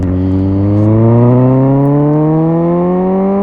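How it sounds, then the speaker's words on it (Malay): A big motorcycle's engine being warmed up after a month of little riding: a loud, steady revving drone whose pitch climbs smoothly and continuously throughout, with no talking. "Sebenarnya aku nak panaskan enjin motor ni"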